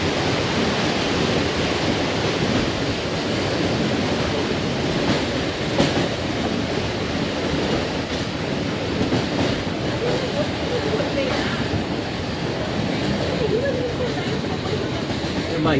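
A mountain train in Switzerland running on its rails, a continuous loud rumbling and rattling that stays steady throughout, with people talking over the noise.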